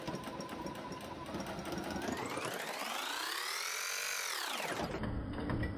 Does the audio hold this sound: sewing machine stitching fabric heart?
yes